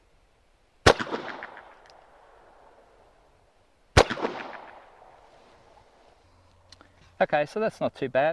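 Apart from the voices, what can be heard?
Ruger Security Six .357 Magnum revolver shots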